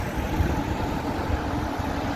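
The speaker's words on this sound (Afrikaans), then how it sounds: "And all the traffic coming down." Vehicles come down the Huisrivier Pass during a flood, giving a steady low engine rumble that blends with continuous broadband water and wind noise, moderately distant and unbroken.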